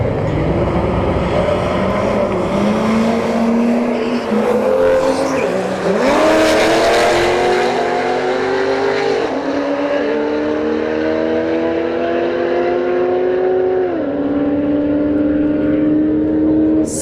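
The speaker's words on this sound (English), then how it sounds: "C6 takes the win at 129 miles an hour." A supercharged Chevrolet Corvette C6 makes a drag racing run at a street drag strip. The loud engine roar climbs in pitch, drops back briefly at each gear shift and climbs again throughout the run.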